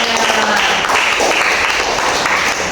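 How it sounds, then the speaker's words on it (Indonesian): An audience claps steadily throughout for a guest speaker at a youth-focused facilitation talk, a dense, continuous wash of applause with no voices over it. "boleh tepuk tangan dulu untuk Bang Agus"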